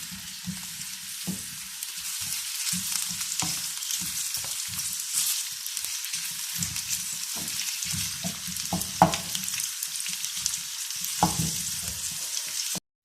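Sliced onions fry steadily in a pan for a masala tinda dish, a constant bright sizzle close by, punctuated by frequent scraping stirs and soft knocks of the spoon against the pan, with no one talking.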